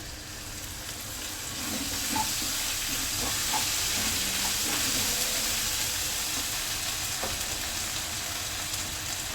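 Onion and spice paste fry in a pan, and ginger-garlic paste is added, making a constant loud sizzle with faint stirring scrapes throughout and no talk.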